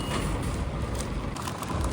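Foam delivery truck arriving and reversing beside a narrowboat mooring, with steady rumbling engine noise and repeated reversing beeps close by.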